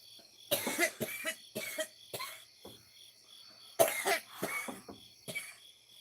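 Someone coughs repeatedly and close up, with about nine sharp bursts in irregular clusters and short quiet gaps between them. No one speaks.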